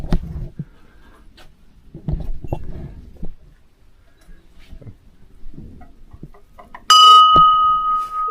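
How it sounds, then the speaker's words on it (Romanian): A small bell at a guesthouse museum rings once near the end, a clear bright ding that rings on, following quiet footsteps and soft handling noises. "Tu și cu clopoțelul, să știi lumea că ai venit."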